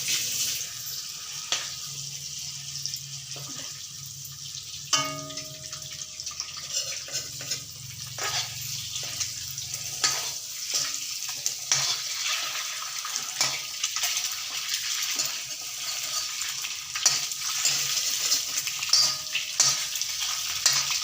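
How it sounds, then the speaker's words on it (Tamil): Continuous sizzle of eggs frying with chili powder and turmeric in a pan, with intermittent stirring and scraping, close and moderately loud throughout, no talking. "மிளகாத்தூள் மஞ்சத்தூள் போட்டு முட்டையை போட்டு வறுத்துக்கிட்டு இருக்காங்க"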